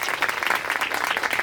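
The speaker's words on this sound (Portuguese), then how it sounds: "Todos os aplausos mesmo." Festival audience applauding a guest speaker, the dense clapping steady and loud throughout the short stretch with no voices over it.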